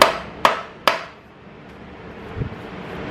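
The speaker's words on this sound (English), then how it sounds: "The hammer will bounce back once you bottom the pilot bushing adapter all the way in" Three sharp, ringing hammer taps on metal as a pilot bushing adapter is driven in, close and evenly spaced, followed by near silence with a faint low thud.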